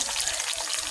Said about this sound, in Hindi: प्याज जो है वो मज़े से गोल्डन हो रहे हैं